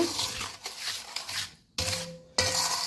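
A spoon scrapes and clinks against a metal pan while a thick jaggery mixture is stirred, steady scraping broken by a short pause, close and moderately loud.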